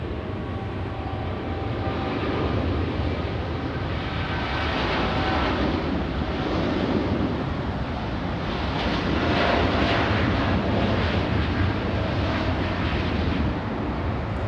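A Zip Air airliner takes off at LAX, its engines producing a continuous, broad, loud roar that holds steady and swells slightly midway, heard from a distance with no talking.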